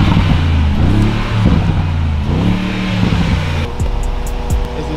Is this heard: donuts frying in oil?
no